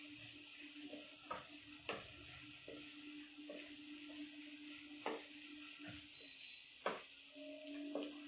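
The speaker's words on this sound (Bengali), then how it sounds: "একটু গাজরগুলো নাড়াচাড়া করে একটু" Carrots are stirred and fried in a pan for carrot and rice payesh, with a steady soft sizzle and light scrapes of the spoon at intervals, quiet and close.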